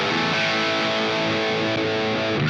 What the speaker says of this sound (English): It's kind of like a blues overdrive, kind of like layered.